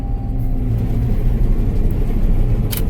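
A combine harvester engine in a wheat-field farming video game runs steadily with its header engaged, producing a loud, continuous low rumble and whir with a brief click near the end.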